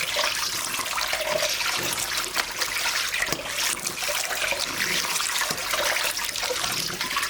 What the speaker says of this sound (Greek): Θα τα πλύνω με ζεστό νερό